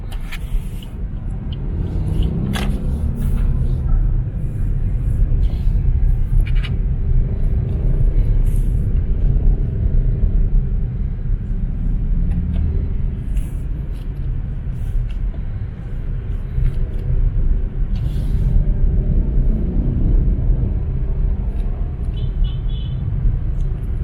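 Car driving on a wide road around Mactan, Cebu, a steady close engine and tyre rumble throughout with faint passing traffic and occasional light rattles.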